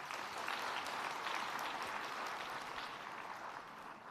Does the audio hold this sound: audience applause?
yes